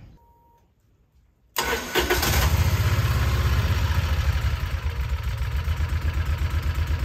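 An engine fitted with a new spark plug and ignition coil sits silent, then cranks and catches abruptly, revving briefly before falling into a steady, fairly loud idle close by.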